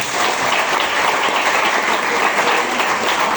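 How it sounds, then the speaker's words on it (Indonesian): A large audience of student members at an IPNU/IPPNU training session claps in a loud, steady, dense burst of applause that holds evenly from start to finish. "Tepuk tangan semuanya"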